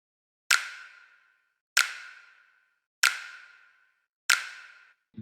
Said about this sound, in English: so for the drums, I started with some snaps